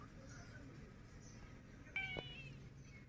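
A single short meow sounds once, faint against a low, steady outdoor background.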